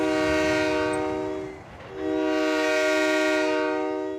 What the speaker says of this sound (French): C'est la première fois que j'entends un klaxon aussi bruyant.